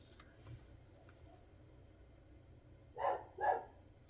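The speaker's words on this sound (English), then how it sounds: "Dog down the street's barking too." Dogs barking in a quiet residential neighborhood, two distinct close barks near the end after faint distant ones, set against low background hum.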